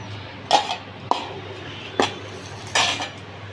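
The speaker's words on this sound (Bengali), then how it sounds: "আমি আলুটা তুলে নিচ্ছি" Metal utensils clink and scrape against a pan while fried potatoes are lifted out of oil for an aloo potol posto dish, four distinct close clattering strikes spaced about half a second to a second apart.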